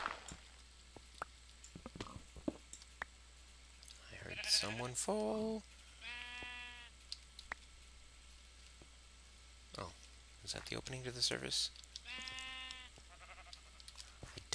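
Minecraft sheep bleat twice underground in a cave, each a short wavering cry repeated in two bursts with a gap between, near and fairly loud, with a voice talking between and over them.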